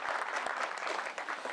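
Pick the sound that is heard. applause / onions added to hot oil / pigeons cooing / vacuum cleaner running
applause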